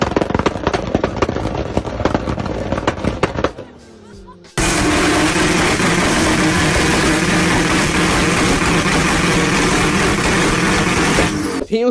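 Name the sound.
Toyota Supra engine revving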